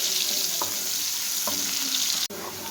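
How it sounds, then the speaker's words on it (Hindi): Chopped onions sautéing in hot oil in a pan, a bright continuous sizzle with a couple of soft stirring scrapes and a brief sharp clink near the end. "हम ऑयल जो है गर्म हो चुका है तो इसमें हम डालेंगे प्याज, और प्याज को हम तकरीबन 10 से 20 सेकंड तक हम सौते करेंगे हल्का सा"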